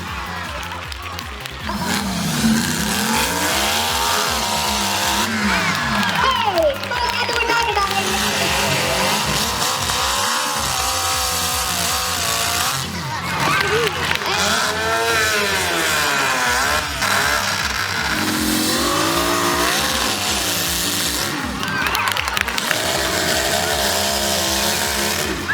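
A giant chainsaw driven by a V8 engine runs with a loud, continuous rough motor drone that rises and falls in pitch as it revs, with music playing over it.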